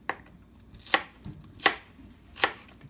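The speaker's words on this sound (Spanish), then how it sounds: "A mí me gusta picarlo bien finito el apio." Celery being finely chopped with a knife on a cutting board for ceviche: four sharp, close knife strikes spaced roughly evenly, with no talking.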